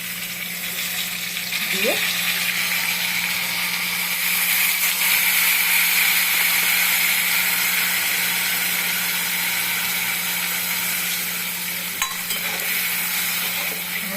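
Radhuni spice paste sautéing in a pan for a light katla fish curry, a steady loud sizzle with a faint stirring scrape, and a brief word spoken near the start.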